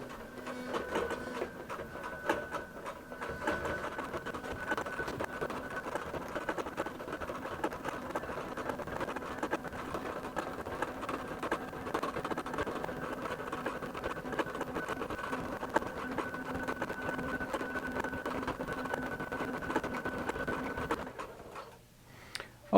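A QBOT V3 computerized quilting machine stitches the outer perimeter of an appliqué with a fast, even mechanical whirring and ticking. The sound is steady and quiet, holds for about twenty seconds, then stops abruptly.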